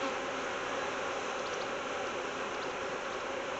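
Honeybees swarm around an open hive, a dense, continuous buzzing drone close by at moderate level, with no voices.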